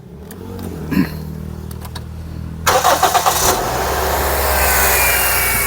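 A Toyota Vios 1.5 VVTi engine that has never run on gas cranks with several quick rhythmic turns, catches, and settles into a steady, loud idle, preceded by faint clicks and rustling.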